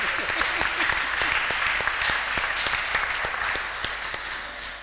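Loud, dense audience applause at an architecture panel discussion, with a few sharp individual claps standing out, continuous and close with no talk over it.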